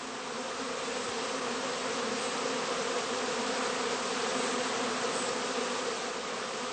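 Honeybees swarm around the entrance of a heather skep in an apiary, a dense continuous buzzing hum that stays steady and fairly loud throughout, with no voices.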